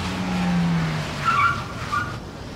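A car speeds along a wet road in the rain, its engine and tire noise building into a short skidding squeal midway before easing off; no one speaks.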